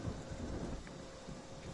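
Rain and thunder in the video game Friday the 13th, a dense, steady wash of rainfall with low rumbling thunder underneath, continuous and fairly loud throughout.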